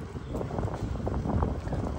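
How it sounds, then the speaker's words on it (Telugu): Cool wind blows outdoors with soft gusty buffeting on the microphone, a low rumbling wash that rises and falls throughout. "ఎంత మంచి గాలి వస్తుంది కదా"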